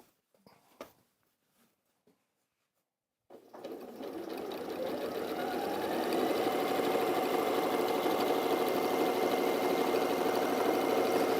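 A sewing machine runs steadily at speed while stitching a quarter-inch seam on a design roll strip, following a few quiet clicks and a short pause, its close whirring hum building and then holding even.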